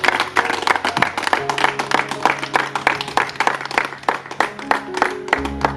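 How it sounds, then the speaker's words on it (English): An audience claps in thanks at a livestreamed event, with dense, steady clapping running close and loud for several seconds, and a few sharper individual claps standing out. "We give them a round of applause."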